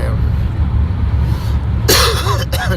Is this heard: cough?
yes